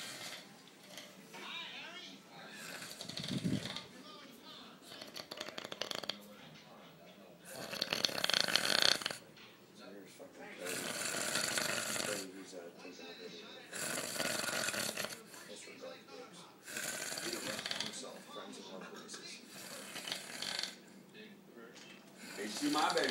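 Loud snoring in rhythmic waves of rough, rattling breaths a few seconds apart, heard close up, with people talking over it.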